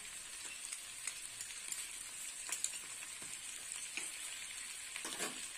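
Poppy seed paste sizzles steadily in a hot frying pan while a Bengali vegetarian chorchori of potato and kakrol cooks, a soft continuous crackle with small pops and no voices.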